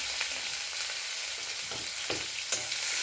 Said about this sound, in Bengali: পেঁয়াজ কুচির সঙ্গে পেঁয়াজ বাটাটা ভালো করে ভেজে নিচ্ছি